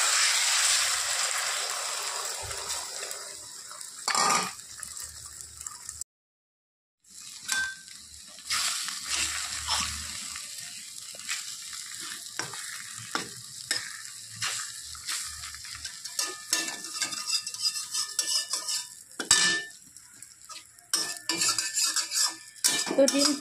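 Four cracked eggs, unsalted, fry in a hot kadai while a utensil stirs and scrapes, with sharp metallic clinks and clatters over a steady sizzle, one brief silent gap partway through, close and fairly loud.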